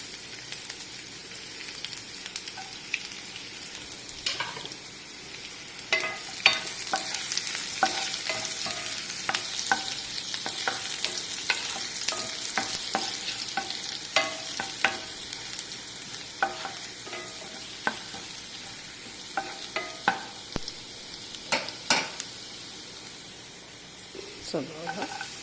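Garlic and ginger sauté in hot oil with crackling mustard seeds, a continuous close sizzle broken by frequent spatula scrapes and sharp pops, with occasional talk underneath.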